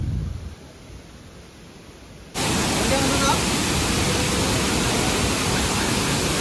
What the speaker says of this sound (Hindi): Here we reached at the location of waterfall.